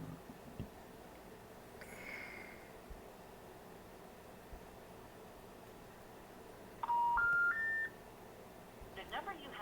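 Telephone keypad DTMF tones, a brief run of three or four stepped beeps dialed in quick succession over a faint line hiss, preceded by a short squeal and followed by a burst of noise.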